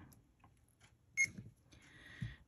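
A quiet room with a short high electronic beep from an electronic speed controller in a Tamiya Grasshopper II buggy kit, followed by a faint sustained tone and a soft thump.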